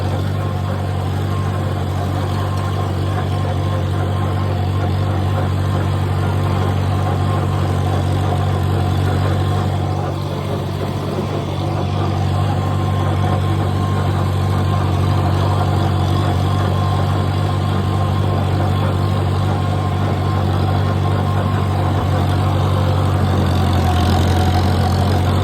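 An IH Farmall 140 tractor engine running steadily while pulling a 5ft fast-hitch brush hog, a loud continuous low drone with a constant hum and rattling mower noise throughout, close to the listener.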